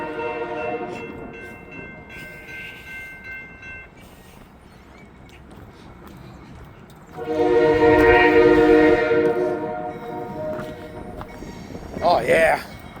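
Southbound Norfolk Southern freight train rolling past on a cold, windy morning in Hamilton, rail noise building as a loud horn blast sounds midway, then a second shorter horn near the end, with wind and a voice talking.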